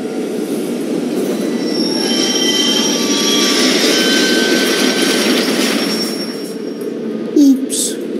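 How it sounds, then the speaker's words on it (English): Train wheels squealing loudly as a train passes in a video game, a sustained high metallic screech over a steady rumble that fades near the end. "Oops, not your train, Mr. Wolfe."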